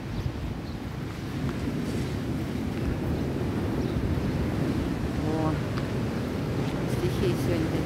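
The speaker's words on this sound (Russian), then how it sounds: "Похоже на океанские волны." Rough sea waves crash and wash continuously against the shore beside the promenade at Protaras, Cyprus, in a loud broadband roar mixed with wind, while a person talks briefly over it.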